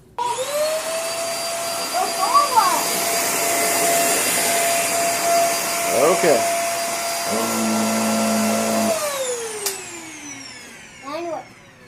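A Hoover React vacuum cleaner runs loud and close while picking up blacklight confetti, with a steady high whine that holds throughout and shifts in pitch as it works. A person speaks briefly over it.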